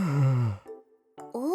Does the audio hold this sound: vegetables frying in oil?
no